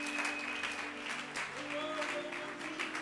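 A church congregation applauding to acclaim Jesus, steady dense clapping throughout with sustained music tones underneath, fairly distant.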